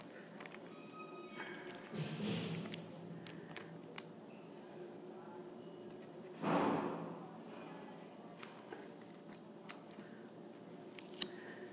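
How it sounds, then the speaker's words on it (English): Scissors trim excess tape from a SIM card tray for an iPhone 4 or 4S in a few quiet, close snips, with two softer rustling passes and scattered small clicks in between. "you're going to start cutting off the extra tape you have in there"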